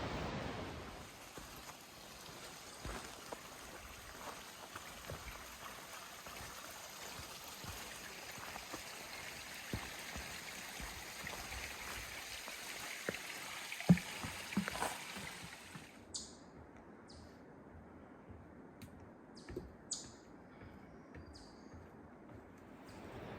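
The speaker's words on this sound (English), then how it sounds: "Falls are absolutely beautiful." Broad, steady rush of a large mountain waterfall at Whitewater Falls along the Foothills Trail, filling the scene with constant white noise before the roar drops away abruptly near the end, leaving quieter ambience.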